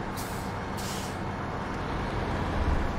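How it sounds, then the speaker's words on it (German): Heavy trucks rumble steadily and loudly while one tows another through the snowy Taimyr terrain in SnowRunner, with a brief hiss of air near the start and no voices. "Ja, ich ziehe deinen LKW gerade."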